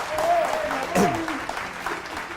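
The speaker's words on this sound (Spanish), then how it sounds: "Un aplauso para nuestro invitado." Studio audience applauding a guest on a talk show, a short burst of clapping heard beneath an excited host's voice urging the crowd on.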